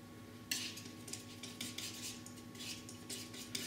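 A metal palette knife mixes oil paint on a palette for a beach and rocks knife painting, producing faint, close scraping and light tapping strokes in a quiet room.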